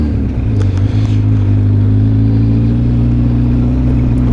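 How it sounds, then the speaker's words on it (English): City road traffic in Tampere, Finland, with cars and motorcycles passing: a loud, continuous engine rumble with steady droning, one vehicle accelerating close by and no break in the noise. "By the way, this is so-called traffic in Finland."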